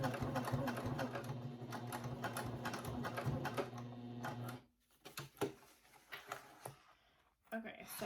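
A home sewing machine basting fabric for a handmade Book Bestie runs in a steady, rapid stitching rattle for about four seconds, then stops, leaving scattered handling clicks and rustles close by.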